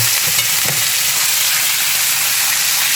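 Tilapia fillets fry loudly in a hot pan, a dense close sizzle with a couple of soft knocks early on as the pieces are turned.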